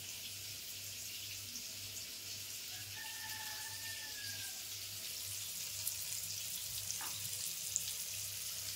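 Prawns frying in hot oil in a home kitchen, a steady soft sizzle throughout with a brief clink of utensils, faint and close, no voices.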